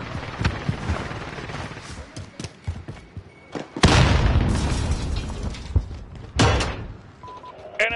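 Sharp booming shots from a sniper in a video game ring out at intervals, two heavy reports standing out around the midpoint and later, over a busy background of thuds and game noise.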